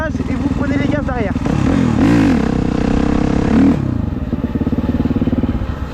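A motorcycle revs hard and close as clutch and throttle are worked for a wheelie, the engine climbing and falling in pitch through several surges before settling to a pulsing idle, with someone speaking over it.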